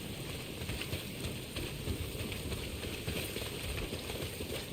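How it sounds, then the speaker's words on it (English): Heavy rain pours in the video game Days Gone Remastered, a dense, steady hiss of drops across the whole stretch with no voices, loud and unbroken. "Well, not if it's pissing down rain."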